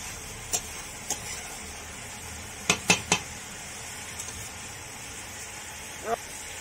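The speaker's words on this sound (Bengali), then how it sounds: "রসটাকে নেড়ে নিতে হবে।" A utensil clinks and scrapes against a pan while leafy red greens curry with fish head and mustard paste is stirred, with scattered sharp taps including a quick cluster, over a faint sizzle.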